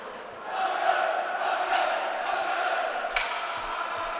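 A high school hockey crowd sings a song in an arena, a broad sustained wash of many voices filling the space, steady and fairly loud, with a few sharp bangs near the end.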